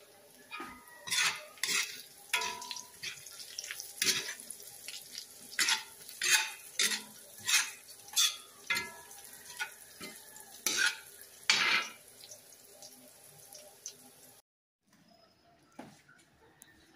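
About 1.5 kilos of mixed pancit canton and bihon noodles are stir-fried with vegetables, rhythmic loud scraping and tossing strokes over a low sizzle, close up, before a brief near-silent pause at the end.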